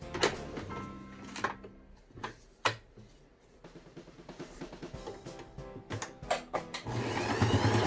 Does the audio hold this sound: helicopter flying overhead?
no